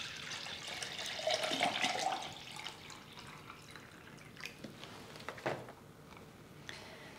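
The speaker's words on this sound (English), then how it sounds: "I'm just watering in like you would normally be watering your plants" Water poured from a watering can onto houseplants, a soft splashing trickle early on followed by faint drips and patters, quiet and close.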